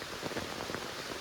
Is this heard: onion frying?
no